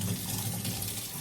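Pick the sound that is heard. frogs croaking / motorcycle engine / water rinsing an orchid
water rinsing an orchid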